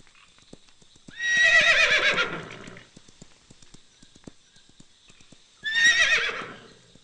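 Two loud horse whinnies ring out in a Tamil film scene set around horse-race betting, with light clip-clopping hooves between them. No one speaks.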